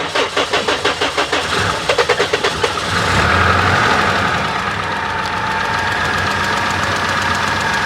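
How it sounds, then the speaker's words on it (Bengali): A used 2003 Toyota DX car cranking with rapid rhythmic starter pulses, then catching into a steady, close, loud engine idle with a slight ticking rattle. "আমাদেরকে ইঞ্জিনের সাউন্ড একটু শোনান।"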